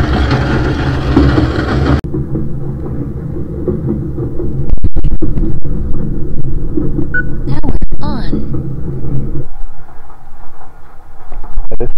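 Loud, continuous low rumble of a moving train interior with rattles and clunks, a brief squeal partway through, and people speaking over it.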